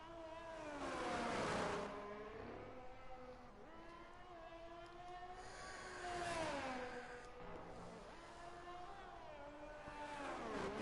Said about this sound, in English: Kane Lowry now as he's pushing this Ferrari to the limits